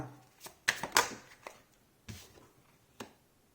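Tarot cards are shuffled for a cross spread: a few quiet, quick papery riffles and taps, close by, with short pauses between them.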